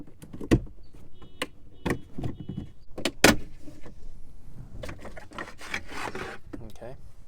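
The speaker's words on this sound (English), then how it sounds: "First thing you need to do is just remove this trim for the instrument cluster." Plastic instrument cluster trim being pried and pulled off in a 2008-2014 Mercedes C-Class interior, giving a series of close sharp snaps, creaks and scraping rubs at irregular intervals, loudest about a third of the way in.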